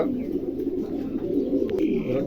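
A pair of fancy pigeons, Dragon Homers, a red male and a yellow female, coo in a low continuous rolling drone close by, with a brief higher squeak near the end.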